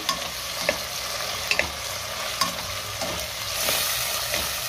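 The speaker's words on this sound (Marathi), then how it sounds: "त्यातच आता टोमॅटो घालूया आणि टोमॅटो सुद्धा परतून घेऊया।" Tomato being sautéed with onion in a pan, a steady sizzle of frying with occasional stirring scrapes and clicks, close and continuous, with no talking.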